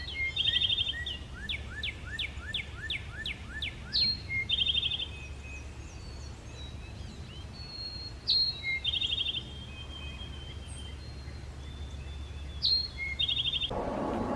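Northern cardinal singing in a forest, with repeated bright whistled phrases and slurred down-sweeping notes in several separate bursts, moderately close over a low, steady background rumble.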